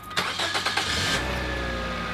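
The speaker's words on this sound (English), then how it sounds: "now we're going to start the car. Start her up." A used car's engine cranks with a few quick rhythmic turns, then catches and settles into a steady, close idle.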